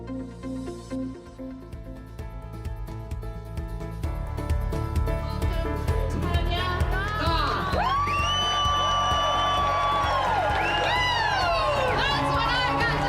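A rally crowd cheers, whooping and shouting in a sustained roar that swells after the first few seconds, with high whistles and voices mixed into the noise.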